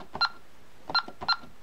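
Three short electronic tones from a Honeywell Vista alarm keypad as a phone number is keyed in, each beep crisp and close, spaced unevenly over a quiet background.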